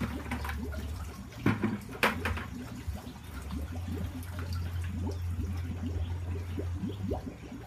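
Liquid pours into a 20-gallon closed-loop compost brewer, giving a close, uneven splashing trickle with irregular gurgles and a few louder bursts, over a low steady hum.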